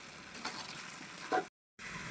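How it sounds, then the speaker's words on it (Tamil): Jackfruit and curry masala powder sautéing in a pan, a soft continuous sizzle with a brief stir clatter near the end before a short gap of silence. "பொலஸோட நல்லா மசாலாவை மிக்ஸ் பண்ணி விடுவோம்"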